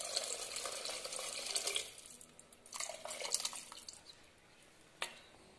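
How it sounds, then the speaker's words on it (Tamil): Water poured into an anchovy fish curry in a pan, heard as close, quiet splashing bursts with a pause midway and one sharp drip or clink near the end. "இப்போ குழம்பு தேவையான தண்ணி ஊற்றிக்கலாம்."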